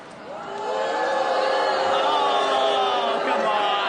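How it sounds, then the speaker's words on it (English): A TV studio audience booing together in a loud, sustained wave of high-pitched, drawn-out voices that swells and then holds. "Now, the booing sounds distinctly high-pitched."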